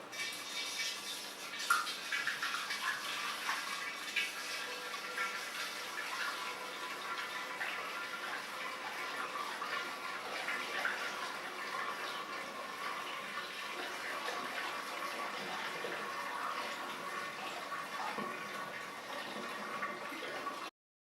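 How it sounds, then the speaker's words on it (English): Hard cider poured through a funnel into a glass carboy, a steady continuous gurgling splash of liquid that runs evenly for about twenty seconds, close and fairly quiet, with no talking. "put in my funnel, open up my cider, and start pouring it in the"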